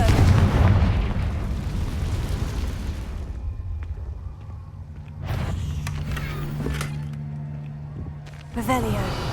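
Confringo fire spell explosions in the Hogwarts Legacy video game, a loud roaring blast at the start fading into rumbling debris, then another burst near the end, with a voice calling out over the noise.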